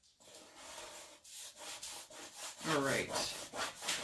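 A board scraper drags across the surface of a magnetic board, a soft, rough rubbing scrape in repeated strokes that grow slightly louder near the end, with a brief spoken remark.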